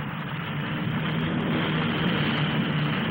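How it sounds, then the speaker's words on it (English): A rotor-tip-powered compound gyroplane airliner flies at the 1958 Farnborough air display, a loud, steady, broadband engine and rotor roar that holds constant throughout with no voices. "The power goes on to the rotor tips, and the big airliner becomes again a hover plane."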